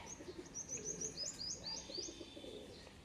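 Arshad breed pigeons, a pair kept as pets, give soft low coos with some higher chirping tweets from other birds, faint and close, without any talk.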